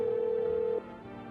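A video-game telephone sounds a single sustained electronic tone, clear and close, which cuts off abruptly under a second in, leaving faint background hum.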